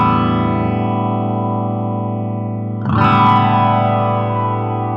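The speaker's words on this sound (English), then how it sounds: "Not the best flange" Line 6 Spider IV 15W guitar amp with flanger effect: a sustained distorted chord with a sweeping, warbling comb-like shimmer, then a fresh strum about halfway through, loud and close with no talking.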